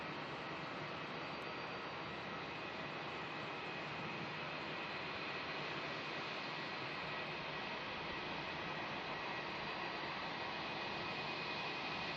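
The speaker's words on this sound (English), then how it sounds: "Right now you should be hearing a really noisy Jetstar 320 coming on into the bay." A Jetstar Airbus A320 jet taxiing into its bay at Melbourne International Airport gives a steady, loud, broadband engine roar that holds level for the whole stretch, with no talk over it.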